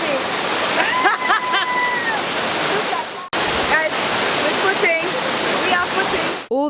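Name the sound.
Aruu Falls waterfall in Uganda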